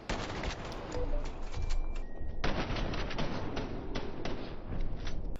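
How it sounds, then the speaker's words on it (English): Rapid, dense gunfire from an anti-armor shotgun in the video game Fallout 76, blasts overlapping into a steady loud barrage with a brief dip near the middle. "that anti-armor shotgun would prime a crit with the first shot, and the second shot would finish it off"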